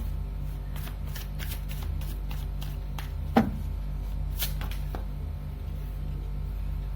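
Tarot cards being shuffled by hand, a soft continuous riffling with a few brief crisp flicks and one sharper snap partway through, close and quiet against a low steady hum.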